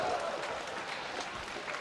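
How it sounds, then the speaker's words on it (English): Snooker crowd applauding a fluke shot at the 2013 Shanghai Masters, a steady, moderately loud ripple of clapping that holds evenly through the moment with a faint murmur underneath. "Well, the crowd enjoyed that one."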